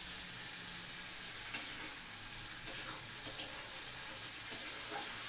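Black cumin seeds fry softly in hot oil, tempering for a yogurt prawn curry (doi chingri). A quiet, even hiss carries a few light taps of a spatula against the pan.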